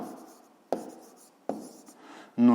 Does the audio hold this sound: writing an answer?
yes